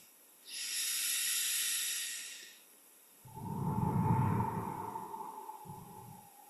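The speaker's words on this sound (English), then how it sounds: "to take a breath." During a guided meditation, one slow, deep inhale hisses softly through the air, then after a short pause comes a longer, lower, breathy exhale. The sound is close and quiet, with no talking.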